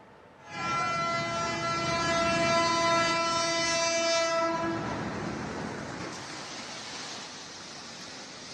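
A commuter train horn blares with a long sustained tone for several seconds in Bogor, West Java, then the rumble and rush of the passing train carries on loudly after it stops.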